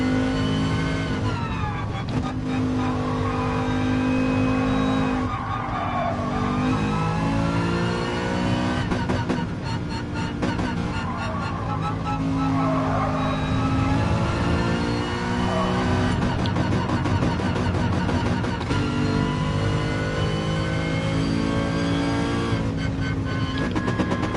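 Race cars lap a track in Gran Turismo Sport on old tyres during an FIA championship exhibition race, engines droning and revving loudly without a break as gears shift and pitch rises and falls.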